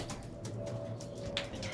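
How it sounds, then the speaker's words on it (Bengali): Sambalpuri Kalchoj pigeons in a loft coo softly, with low, steady murmuring calls and a brief chirp, all fairly faint against quiet background noise. "এক পেয়ার সম্বলপুরি কালচোজ পায়রা দেখাই"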